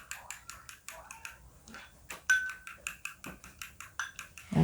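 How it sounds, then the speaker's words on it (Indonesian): A utensil whisks a lime juice and scallion mixture in a bowl, giving quick rhythmic clinks and scrapes close by, fairly soft and steady. "Kita kocok dulu ini."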